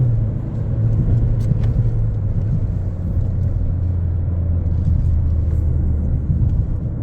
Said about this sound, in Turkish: Kökledik şimdi. Hemen devir yükseltti.